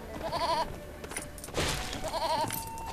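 Goat bleating in the Lego Lord of the Rings video game, two short wavering bleats separated by a pause, heard over quiet game ambience.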